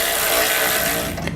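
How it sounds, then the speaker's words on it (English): A ratchet with a 9/16 socket tightening nuts on a tow bar base plate mount for a 2014 Honda CR-V, a rapid continuous run of close, loud metallic ratcheting clicks lasting just over a second. "Then tighten them down with a 9/16 socket."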